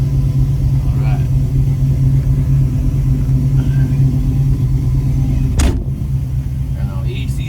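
A 1952 Chevy fitted with Aces fuel injection drives along with a loud, steady in-cabin engine drone and road rumble, broken by a brief sharp click partway through, with faint voice sounds.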